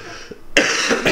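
A single sharp cough bursts out loudly after a brief quiet moment, followed by a rough breathy tail and a second smaller cough-like push at the end.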